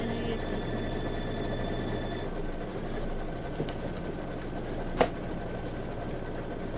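Embroidery machine stitching in an 8x12 hoop, a steady fast mechanical whir that fades partway through, followed by a couple of sharp clicks as needles change, close with no talk.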